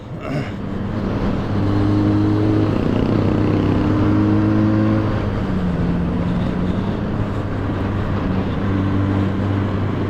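A Harley-Davidson X350 or X500 motorcycle is ridden, its engine droning loud and steady with shifting tones as it pulls and revs, under heavy wind rush.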